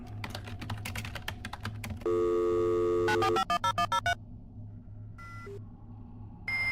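A modem dials out in a rapid series of touch-tone beeps, then a loud sustained tone, a burst of chirps and a crackling connection hiss, with keyboard clatter at the start.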